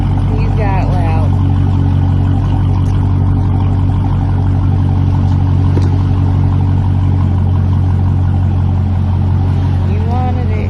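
Close, loud, steady deep burble of a Dodge Charger Scat Pack idling through its loud MBRP street catback exhaust, with a brief voice over the rumble at moments.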